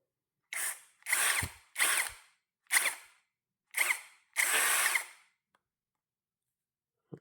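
A KEELAT KCD013 brushless cordless impact drill in hammer mode, run in six short close bursts of loud rattling hammering with brief pauses, ending in silence and a faint click.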